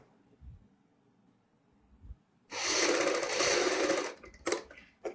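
A sewing machine stitches the front V-neck pieces of a garment, matching the two centre cuts: one steady whirring run of about a second and a half after quiet handling, then a few short clicks.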